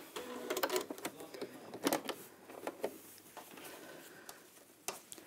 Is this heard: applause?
no